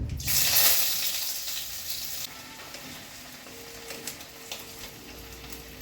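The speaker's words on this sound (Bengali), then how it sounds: "শুকনো লঙ্কা ফোড়ন করছি তেজপাতা দিচ্ছি" Dried red chillies and bay leaf hit hot oil for a tempering, bursting into a loud, close sizzle that spits hard at first, then settles to a softer steady crackle, with a few faint utensil clicks.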